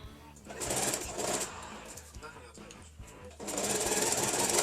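A sewing machine stitches a shirt dress refashioned from a men's shirt, running in fast, close buzzing bursts with short pauses between seams.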